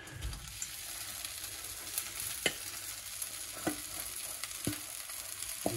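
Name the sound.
aubergines poured into a hot frying pan, sizzling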